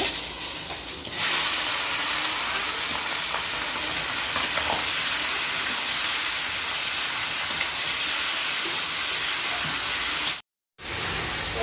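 Duck meat with bay leaf, whole garam masala and cumin frying in hot oil, giving a steady, loud sizzling hiss that runs almost unbroken, with a brief dropout near the end.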